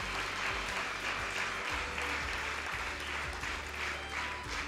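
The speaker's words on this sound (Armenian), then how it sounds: "Ծափարենք իրոք։" Audience applause at a book presentation, a continuous dense clapping from a seated crowd, fairly distant and even in level throughout.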